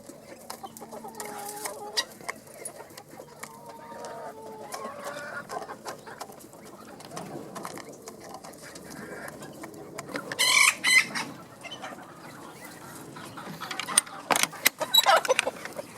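Yokohama bantam chickens in a backyard flock clucking nearby in short, irregular bursts, with a rooster crowing partway through and a few louder squawks toward the end.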